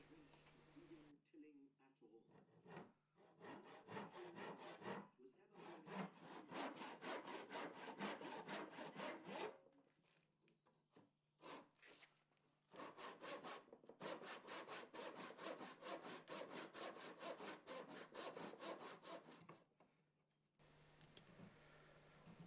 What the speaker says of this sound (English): by cutting the tenon like this we're trying to build in the dish